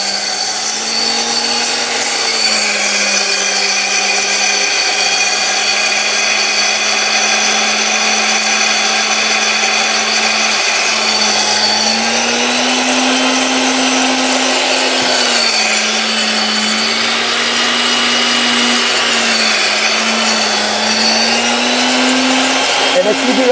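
A mixer grinder grinding wheat grain into flour, its motor a loud steady whine with a droning hum that wavers slightly in pitch as the load shifts, continuous and close throughout.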